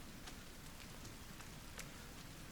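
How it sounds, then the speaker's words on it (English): Rain falls in the survival video game The Forest on a quiet island near the beach, a soft, continuous patter of scattered drops that stays faint and even throughout. "And it started raining, which is pretty good on day one"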